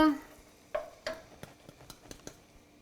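Garlic frying in oil in a pan, a faint low sizzle broken by a series of sharp stirring taps and clicks at an uneven rhythm.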